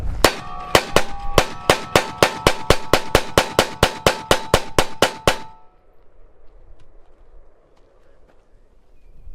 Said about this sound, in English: Kylie's going to put about 10 or 15 or 20 rounds, whatever she feels like, of 223 rifle ammunition in this box.